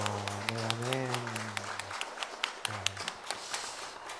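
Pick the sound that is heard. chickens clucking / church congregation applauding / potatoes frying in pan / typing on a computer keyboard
church congregation applauding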